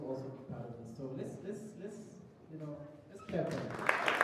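Audience applause at a youth event breaks out near the end, a rising wash of clapping following a stretch of a speaker talking.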